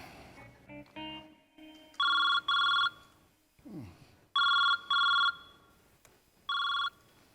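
A landline-style telephone bell rings in repeated pairs of loud electronic trills with short gaps between them, close and clear, interspersed with brief quieter sounds and no talk over the rings.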